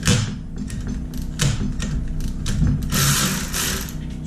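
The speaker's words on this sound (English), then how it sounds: "Take a 6mm Allen, loosen up these pinch bolts." Loosening the front fork pinch bolts of a 2014 Triumph Tiger XR800 motorcycle with a 6mm Allen key, heard as a close, steady run of metallic clicking and ratcheting scrapes with brief louder turns.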